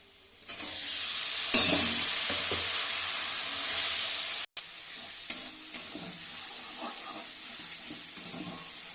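A spice paste of onion, tomato, turmeric, coriander, cumin and Kashmiri chilli fries with prawns in a pan, a steady bright sizzle with stirring scrapes, broken by a brief cut midway.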